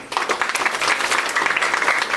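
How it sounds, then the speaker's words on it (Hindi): Loud, dense applause fills the room at an engagement celebration, a thick continuous roar of many hands clapping close by, with no one speaking over it. "पहले जोरदार ताली बजा दो"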